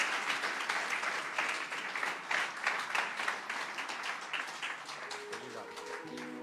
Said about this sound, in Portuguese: Damos um aplauso para Deus